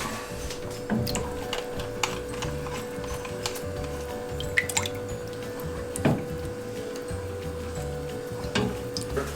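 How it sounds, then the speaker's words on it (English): A spoon stirring milk in a big pot while making halloumi, with soft scattered clinks and ticks against the metal over a steady low kitchen hum. "And now stir this milk into the big pot."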